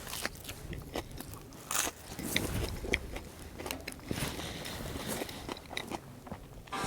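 Crunchy bites and steady chewing of a grilled cheese sandwich with pickles, close and fairly loud, repeating in a loose rhythm for several seconds with no talking.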